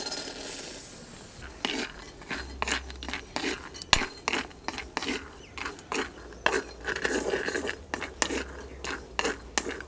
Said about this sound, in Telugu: ముందుగా కళాయి వేడెక్కిన తర్వాత ఈ పల్లీలు వేయించుకుందాం.